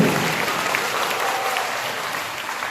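Audience at a taluka-level school quiz competition giving steady, dense applause for a team of children, a continuous clapping wash lasting throughout without pause.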